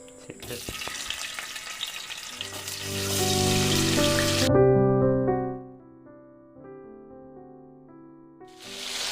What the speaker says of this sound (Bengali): এবার আমরা কেটে রাখা পনিরগুলো ভেজে নেব